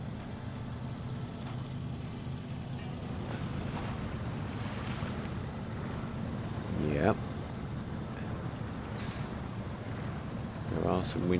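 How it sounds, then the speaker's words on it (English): A Hummer truck rumbles and sloshes through water in SnowRunner, a steady low engine drone with splashing swells, and someone speaks briefly over it. "Let's see what we can do through this water."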